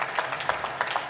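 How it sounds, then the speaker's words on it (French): Audience at a French conference on energy transition in refrigerated road transport applauding, a brief burst of scattered hand claps at moderate distance, fairly soft. "On peut vous applaudir en tout cas."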